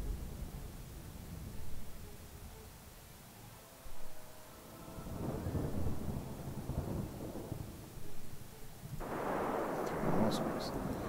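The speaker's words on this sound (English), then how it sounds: "there's a storm now" Thunderstorm in the survival video game Smalland, with long rolling thunder rumbles swelling and fading over steady rain hiss, then a louder burst of downpour near the end.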